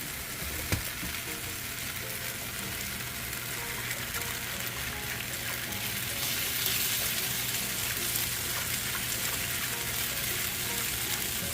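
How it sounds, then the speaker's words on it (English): Cold half and half is whisked into pan gravy for biscuits and gravy, making a steady bubbling sizzle with soft continuous stirring and a faint wet swish throughout. "We're going to use a whisk to stir that in"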